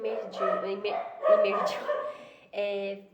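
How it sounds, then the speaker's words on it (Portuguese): Dogs yip and bark in several close, loud bursts, short high-pitched calls tumbling over one another with a brief pause before a final outburst. "Minhas cachorras dando show"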